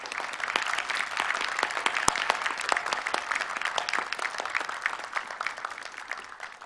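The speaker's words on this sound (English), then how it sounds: "give a big round of applause to all the winners of the Changemaker Humanity Awards 2022" An audience at the Changemaker Humanity Awards 2022 applauds the winners with brisk, steady clapping, individual claps standing out crisply from a moderately loud, continuous patter.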